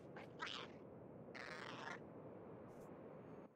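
A person imitating a cat, giving two drawn-out meows a second apart over a low hum, with a faint short squeak afterward.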